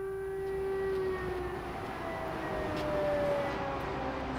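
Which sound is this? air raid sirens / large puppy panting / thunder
air raid sirens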